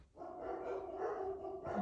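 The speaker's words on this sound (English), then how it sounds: "Oh, my dogs are crazy." Dogs bark excitedly in a sustained, overlapping burst, heard somewhat muffled from nearby with no one talking.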